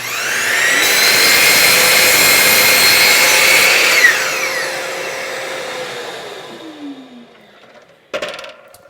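A power saw trims the water-damaged end off a wooden board: a loud, high motor whine holds steady for a few seconds, then winds down slowly, followed by a single sharp clack.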